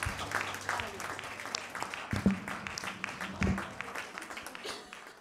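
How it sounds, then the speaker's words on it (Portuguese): A church congregation claps in praise during a worship service, a sustained spread of hand claps filling the room with some voices mixed in. "Podemos aplaudir ao Senhor mais uma vez?"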